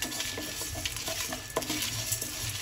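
Bitter gourd and curry leaves dry-roast in a pan without oil, a busy run of close scraping and stirring knocks over a faint, dry sizzle.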